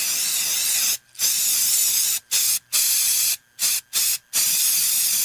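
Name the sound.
aerosol insecticide spray (Baygon Shield Defense) being sprayed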